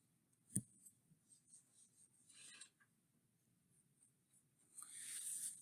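Pen or marker scratching on paper while sketching a graph, a few short faint strokes and taps with quiet gaps, then a longer rasping stroke near the end, close and alone.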